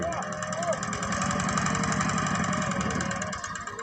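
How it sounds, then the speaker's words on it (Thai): A walking tractor's single-cylinder engine chugs steadily up close with a rapid, even knocking pulse as the machine is maneuvered forward and back; voices talk over it. "เพื่อนสิยับรถไถนาแล่นข้ามาให้มันตรงตรงกัน เดินหน้าไปกับถอยหลังมา"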